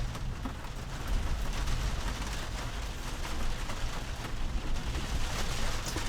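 Rain drums steadily on the roof of a van, a dense, continuous patter with low rumbling swells, heard close and without voices.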